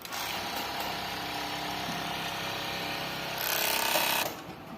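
A sewing machine stitches lingerie fabric with a rapid, steady mechanical whir close by. It speeds up into a louder, higher burst before slowing again.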